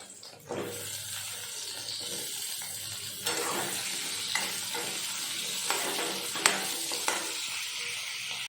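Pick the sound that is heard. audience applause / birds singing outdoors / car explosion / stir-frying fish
stir-frying fish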